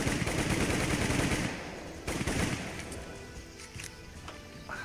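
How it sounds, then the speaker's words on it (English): Rapid automatic gunfire in Call of Duty comes as a loud, fast, continuous burst. It breaks off, returns with a shorter burst and trails away into quieter shots, with no voices. "See how fast we can shoot."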